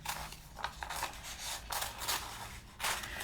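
Scissors snipping through wool applique fabric to cut out a small tail shape, a few close, crisp cuts with slicing and rustling and no talk.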